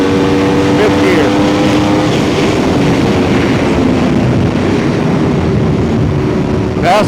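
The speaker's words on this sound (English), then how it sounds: "That's full throttle right there. Fifth gear." An Aprilia RSV4 superbike engine held at full throttle in fifth gear, a loud, steady high-revving drone with wind rush, sustained throughout with a brief sweep near the end.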